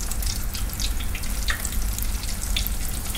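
Live female golden crab frying in hot oil for a Cantonese ginger scallion dish, giving a steady, loud sizzle and crackle with bursts of spattering throughout, no talking.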